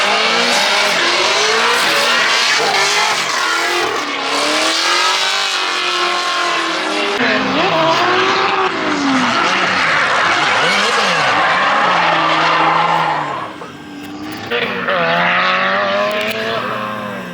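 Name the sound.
KA-powered Nissan 240SX drifting on track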